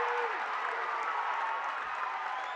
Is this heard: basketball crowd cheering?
yes